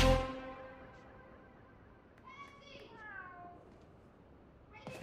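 Spider-Cat, a cat character in the video game Spider-Man Miles Morales, gives a loud close meow right at the start, then a few softer, higher drawn-out meows a couple of seconds later, with quiet game ambience and faint chatter between.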